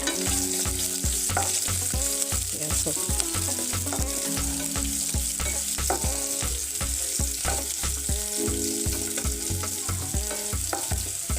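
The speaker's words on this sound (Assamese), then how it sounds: "পিঁয়াজখিনিও অকণমান বাদামী কালাৰ টাইপত মই ভাজি ল'ম" Onions sizzle steadily in hot oil, with a loud continuous frying hiss and rhythmic scraping of a spatula stirring the pan.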